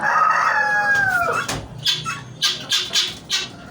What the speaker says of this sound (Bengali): এটা হইলো তিতির পাখির মুরগ, আর এইগুলো যে এইগুলো হইলো মুরগি দেখছেন।